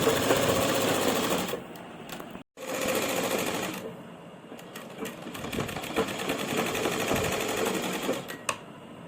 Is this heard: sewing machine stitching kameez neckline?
yes